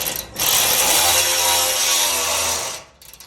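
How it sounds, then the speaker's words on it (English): A wrench ratchets steadily on a nut while a sport rack is fitted to a Cybertruck, giving one continuous close metallic clicking run of about two seconds with no talk. "you're taking an 11 millimeter wrench, hold that nut on the bottom, and pick that up a little bit"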